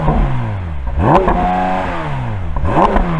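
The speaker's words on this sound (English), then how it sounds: "Let's have a listen to a naturally aspirated flat 6." A naturally aspirated flat-six car engine held at a loud idle blips its revs twice, each surge rising sharply then falling back, close by.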